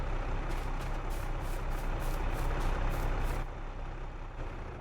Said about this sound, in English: Shut our tractor down.